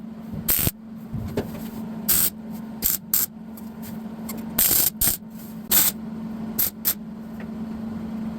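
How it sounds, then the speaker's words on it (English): Welding tacks go onto a chopped roof post of a 1953 Chevy, with about a dozen short crackling bursts at uneven intervals over a steady low electrical hum, close and without talk. "we're gonna get a couple more tack welds in here"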